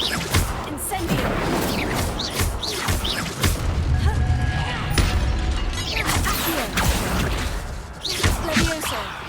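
Incendio fire spell cast during combat in the Hogwarts Legacy video game, a dense burst of booming, crackling blasts and whooshes over several seconds, loud and busy with game noise layered beneath.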